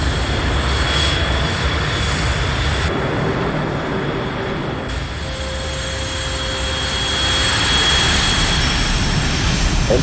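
A fighter jet's engines rumble and whine steadily on a runway in the video game Ace Combat Assault Horizon, loud and continuous, with a slight swell toward the end.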